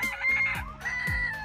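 Chickens cluck while a rooster crows twice on a chicken farm, the calls close and fairly loud, with steady farmyard background and no talk.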